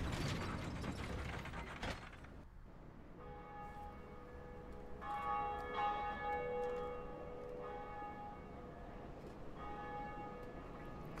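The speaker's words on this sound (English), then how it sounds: "So that's the bell above that we've rung now." Large bell rung in the video game Dark Souls: a loud mechanical clank opens, then several ringing metallic bell strikes with long sustained tones follow one after another, no talking.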